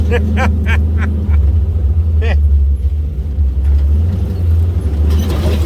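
Side-by-side off-road vehicle driving at Kane Creek, its engine a loud, steady low rumble inside the cab, with bursts of talk over it early on.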